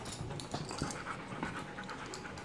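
A husky pants rapidly and steadily while running wild indoors, a continuous close, breathy rhythm with occasional light scuffs.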